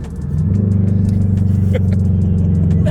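A 2022 Subaru BRZ engine rumbles loudly up close while downshifting, its exhaust burbling in a fast, pulsing rhythm as revs shift, with faint mechanical clicks on top.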